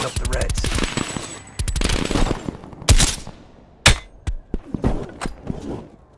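Rapid automatic gunfire from the Call of Duty Black Ops Cold War video game, dense bursts at first followed by scattered single shots and sharp impacts, with a voice briefly heard between them.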